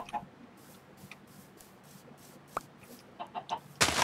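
Chicken clucks in a Minecraft-style mining game, a few short soft clucks spread over a quiet background with small clicks, ending in a louder burst.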